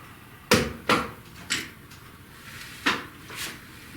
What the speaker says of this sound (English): Let me take the lid off the Ninja.